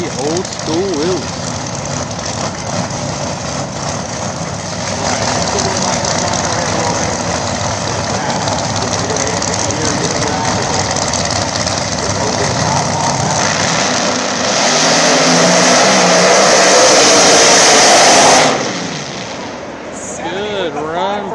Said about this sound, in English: Corvette taking on Ed Wilson in the old school wheels